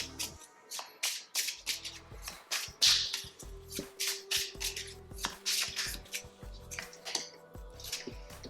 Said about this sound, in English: let's get a few more cards for you.